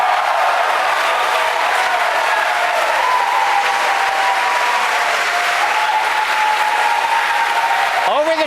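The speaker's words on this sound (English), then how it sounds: "Over the cheering in the background" Large crowd at SpaceX cheering and applauding loudly and continuously through a Falcon Heavy STP-2 launch near midnight after side booster separation, a dense wash of clapping and shouts with voices talking over it.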